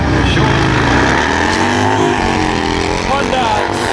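A Harley and a Honda CBR 650R motorcycle roar at a drag racing event, engines revving loudly and changing pitch as the bikes accelerate, with a commentator talking over the noise.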